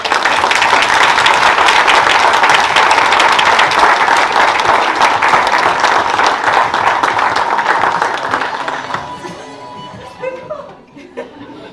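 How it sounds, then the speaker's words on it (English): A big round of applause at a school board meeting, loud sustained clapping from the room with scattered chuckles and voices mixed in, tapering off in the last few seconds. "Can everyone get a big round of applause"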